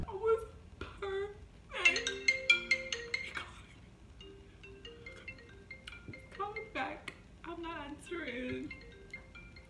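A phone rings with a repeating electronic ringtone melody in bursts, fairly close, while people speak and moan over and between the rings.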